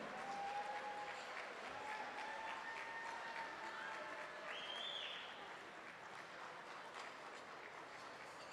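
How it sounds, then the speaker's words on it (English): Applause for teachers at a Catholic high school gala, a broad wash of distant crowd clapping, fairly faint and steady, tapering slightly toward the end, with faint voices mixed in. "Ladies and gentlemen, a round of applause for our fabulous teachers at Bergen Catholic High School."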